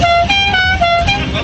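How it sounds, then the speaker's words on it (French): A customized scooter horn blares loudly and close, a sustained multi-tone musical honk with slight pitch changes, continuous for the whole moment. "ou juste un klaxon personnalisé"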